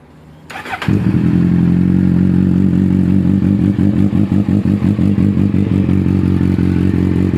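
A Kawasaki Z800 motorcycle fitted with a Yoshimura exhaust cold-starts after a brief cranking clatter, then settles into a loud, close, rumbling idle with a steady throbbing pulse and no talk.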